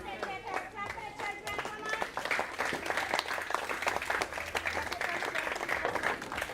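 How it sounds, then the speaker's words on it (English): Schoolchildren at an under-13 tapeball cricket prize-giving clap for classmates collecting medals. The applause builds from scattered claps into steady crowd clapping, with voices heard over the start. "Give them a round of applause as they collect their medals"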